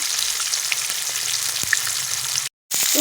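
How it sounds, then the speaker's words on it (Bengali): Whole fish frying in hot oil in a pan for a Bengali fish lunch, giving a steady, close, dense sizzle with small pops, cut by a brief moment of silence near the end before the sizzle resumes. "বন্ধুরা দেখো এই যে সব কটা মাছ ভাজা হয়ে গেল"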